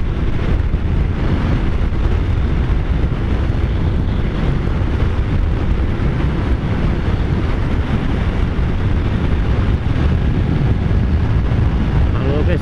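Wind roars across the microphone while riding a Kawasaki Z900 motorcycle on the highway, a loud, constant buffeting rush of broadband noise that never lets up, with the engine buried beneath it.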